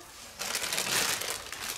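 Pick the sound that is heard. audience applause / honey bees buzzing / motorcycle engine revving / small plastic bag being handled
small plastic bag being handled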